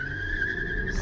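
A V6 Toyota Camry spins its tires on the street at a green light, giving a short, loud, sustained tonal squeal over engine rumble.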